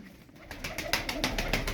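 Pigeons coo softly in a loft, a few low, throaty calls close by over faint background rustle.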